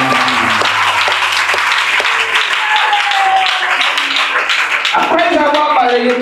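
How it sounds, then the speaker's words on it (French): A church congregation bursts into sustained applause and cheering to acclaim Jesus, loud and steady throughout with a few tonal voices and instrument notes rising over the clapping. "On acclame Jésus."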